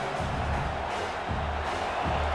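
A fired-up football stadium crowd roars in a steady, distant wash of cheering, with no single voice standing out and occasional swells in the low rumble.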